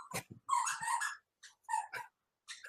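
A pet dog barks several times at close range in short, sharp bursts separated by brief pauses, loud against an otherwise quiet indoor background.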